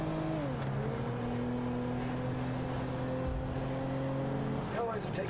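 A car cruises steadily in GTA Online, its engine drone holding level with a shift in pitch near the start and a brief change near the end, constant and fairly loud.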